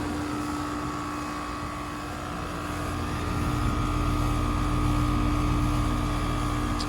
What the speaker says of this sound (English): that is a startup of my 2023 Carrier Century Series heat pump in heat mode